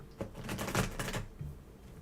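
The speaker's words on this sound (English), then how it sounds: "I'm still shuffling." Tarot cards being shuffled by hand, a run of soft, rapid riffling flutters over about a second and a quarter, moderately close and fairly quiet, with a fainter rustle trailing after.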